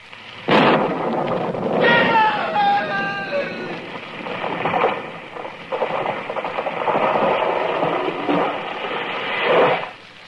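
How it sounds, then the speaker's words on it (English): A staged lightning-strike thunder effect in a western radio drama: a sudden loud crack followed by a long rolling rumble that swells and fades over about ten seconds, with no talk. "It was lightning. It struck the tree."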